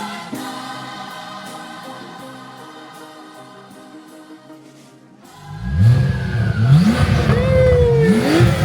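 A Porsche Turbo S engine revs loudly at a crowded reveal party, rising in repeated climbing pulls after a stretch of steady background music and crowd noise.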